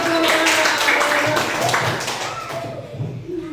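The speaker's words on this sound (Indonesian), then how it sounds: "Oke, tepuk tangan." Applause from a class of students in a classroom, a few seconds of brisk, fairly loud clapping mixed with overlapping voices and chatter, tapering off toward the end.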